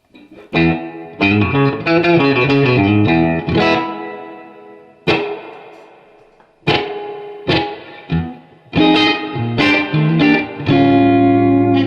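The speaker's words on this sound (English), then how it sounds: "It almost has a reverb-like sound when it's really, really short." Electric guitar chords and single notes played in bursts through a vintage Boss DD-3 digital delay pedal in short mode, adding a slight reverb-like tail; occasional brief pauses between phrases.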